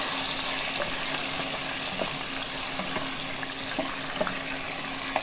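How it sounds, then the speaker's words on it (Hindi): Mutton pieces frying in hot oil, giving a steady close sizzle with occasional small pops and crackles, and no voices. "मैं इसमें ऑयल बिस्मिल्लाहिर्रहमानिर्रहीम में मटन डाल रही हूँ। थोड़ी सी हम इसकी भुनाई कर लेते हैं।"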